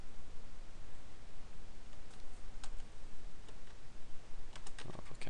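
Keys on a TI-83/84 graphing calculator are pressed in a quick run of soft, close plastic clicks, sparse at first and then bunching into a rapid burst at the end.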